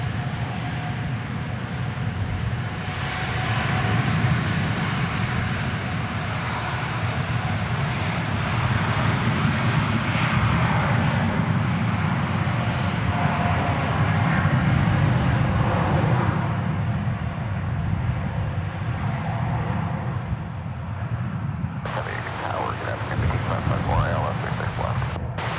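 An airliner departs Dallas/Fort Worth Airport for Seoul: a loud, steady jet-engine roar holds for the full stretch, with broad rumbling and windy noise and no clear voices.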